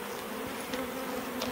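Honey bees in a hive colony that has two deep and two medium boxes and a queen cell, humming in a steady, close, continuous drone with faint wingbeat flickers. No voices are heard.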